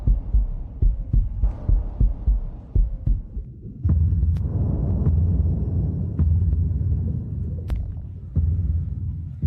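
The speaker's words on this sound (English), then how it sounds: "What is that sound? Sounds... heartbeat." Deep, throbbing heartbeat thuds pulse in a steady rapid rhythm, then give way to a low continuous rumbling drone with scattered sharp clicks, loud and close with no voices.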